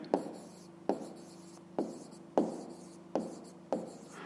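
Writing an answer with a pen in a notebook during a 5th-grade math exercise on fractions: six crisp, regularly spaced pen strokes, close and distinct, over a low steady hum, with no voices.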